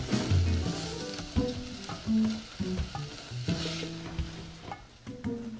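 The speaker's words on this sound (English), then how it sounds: "And our garlic. And we'll saute that for just a couple of minutes." Garlic and rice sautéing together in a pan: a steady sizzle with scraping stir strokes and clinks of a utensil against the pan, close and fairly loud, with no one speaking.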